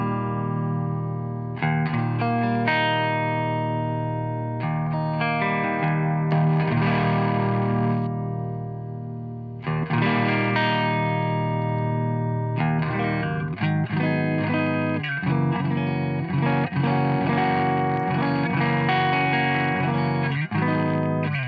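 Electric guitar played through a Digitech Clone series pedal on a low gain setting, a clean-ish chorus-like shimmer over sustained chords and picked notes, steady and close for about twenty seconds with no talking.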